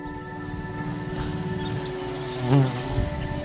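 A bee buzzes close among garden plants, a low steady drone that swells briefly as it moves near, over faint background hum.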